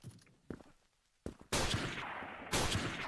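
Gunfire in the Krunker.io first-person shooter game, with a few sharp single shots followed by louder sustained bursts of rapid fire.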